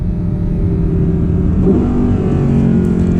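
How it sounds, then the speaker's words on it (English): Audi R8 with a dual-clutch transmission in dynamic mode making a rough downshift to second, a loud, deep engine roar that swells briefly as the revs rise and then holds steady, with no talk. "Oh, in dynamic mode, it's a rough downshift for sure"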